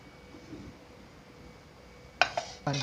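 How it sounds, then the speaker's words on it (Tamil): After a quiet stretch, metal clanks and rattles sharply a few times close up as a pressure cooker lid is handled and lifted. "குக்கர் விசில் அடங்கிடுச்சு நம்ம இப்போ திறந்துக்கலாம்"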